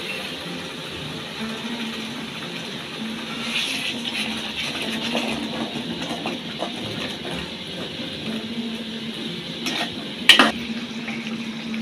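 Biryani masala with ground cumin, coriander and a splash of hot water being stirred and fried in a pot, a low steady sizzle with scraping spoon strokes and a sharp metallic clink near the end.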